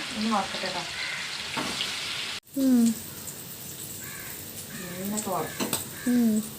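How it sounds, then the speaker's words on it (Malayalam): Fish frying in oil sizzles steadily through the clip, with a brief dropout near the middle, while people talk over it and crows caw in the background. "ഒന്ന് വറുത്തെടുക്കട്ടെ"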